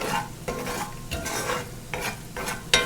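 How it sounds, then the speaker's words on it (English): A spoon is stirred steadily through a gumbo roux of flour and fat cooking on very low heat in a pot, giving repeated scraping swishes about every half second over a soft sizzle, close and moderately loud, with no talking. "And of course you have to continuously stirring this."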